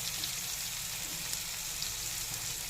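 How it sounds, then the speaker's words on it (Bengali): Soybean chunks fry in a pan for a vegetarian soybean curry, with steady, close sizzling and crackling that holds even and continuous throughout, no voices over it. "এবার সয়াবিনটা একটু ভেজে নেব।"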